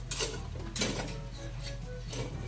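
A metal lid clanks and scrapes as it is lifted from a pot of boiling pork stew with corn, followed by a low steady bubbling hiss, close and fairly quiet.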